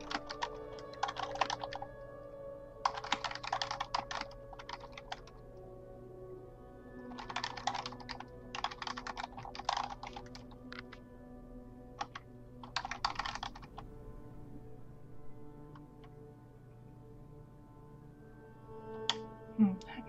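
Someone taps on a computer keyboard in quiet clustered bursts of keystrokes separated by pauses, close and fairly soft over a low steady background hum.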